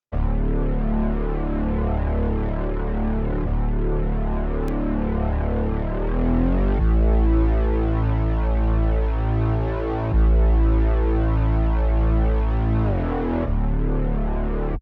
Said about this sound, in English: the last thing I've added was this bass